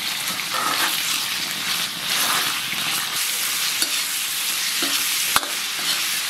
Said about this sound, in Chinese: 五花肉下锅